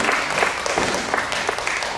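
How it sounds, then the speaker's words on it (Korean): An audience at a local community festival singing contest bursts into lively, continuous applause, loud and close with dense clapping throughout. "박수를 맞아 주십시오."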